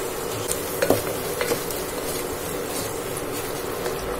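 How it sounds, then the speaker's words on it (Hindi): Chopped tomatoes and spices, including coriander, are stirred and fried in a pan for a masoor dal tadka. The scraping and stirring is steady and close, with a soft sizzle underneath and a few sharper clinks near the start. "ये मैंने 2 टमाटर मैंने चॉप कर लिए थे इसको हम डाल देंगे और डाल करके इसको हम चला लेंगे"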